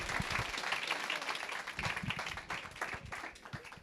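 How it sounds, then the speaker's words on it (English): At a Kiwi launch event, an audience applauds the company's founder, brisk overlapping claps forming a lively, fairly close patter that carries on steadily without speech. "So I need a huge round of applause for the founder of Kiwi, Felipe Chavez."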